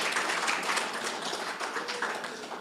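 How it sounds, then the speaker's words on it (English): Faint, steady applause from a breakfast audience at a swearing-in ceremony, a soft continuous patter of clapping with no voices. "Let's give them a round of applause."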